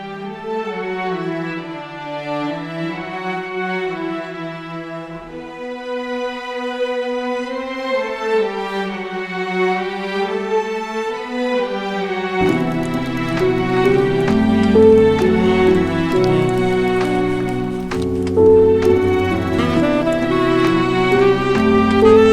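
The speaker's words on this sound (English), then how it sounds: "we worked with their orchestra and added some beautiful string ensembles to the" Sustained, sweeping string ensemble with slow, swelling bowed lines, later joined by a fuller layered arrangement that continues steadily to the end.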